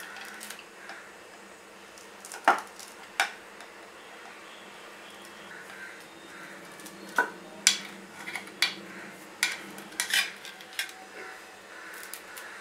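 A knife slicing through hot sesame chikki gives a run of sharp, irregular cracks and taps, close and fairly clear against a quiet kitchen background.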